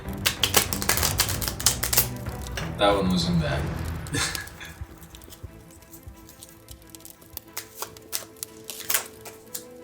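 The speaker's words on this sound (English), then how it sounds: "I'm not the best at shuffling here." Tarot cards being shuffled by hand give rapid crisp riffling clicks and a fluttering burst, followed by scattered taps, with a person speaking briefly.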